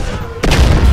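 A sudden loud explosion from the GTA III beta with the Overdose Effects mod bursts in halfway through, a deep booming blast following a brief quieter lead-in.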